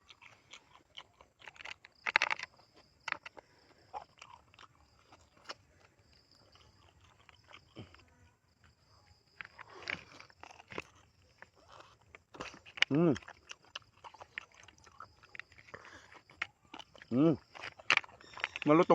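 Close-up crunchy chewing and biting of large squid comes in bursts while people talk nearby.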